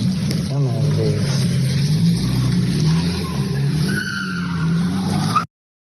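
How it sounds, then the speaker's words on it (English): A car reverses away from a garage it struck and accelerates hard up an alley, its engine droning loudly throughout with a tire skid, while a voice talks over it. "She then reversed the car from where she impacted the garage and drove up the alley at a high rate of speed"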